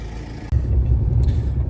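An old white Chevy pickup truck engine catches at about half a second and settles into a steady, loud low rumble of running close by, with no talking.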